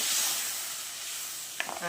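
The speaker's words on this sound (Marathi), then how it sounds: "याच्यामध्ये आपण अर्धा ग्लास आधी पाणी टाकून घेऊया" Water splashed into hot frying masala with tomatoes gives a broad hiss that is loudest at first and slowly fades, then a brief voice cuts in near the end.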